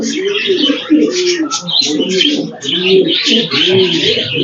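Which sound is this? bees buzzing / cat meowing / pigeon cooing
pigeon cooing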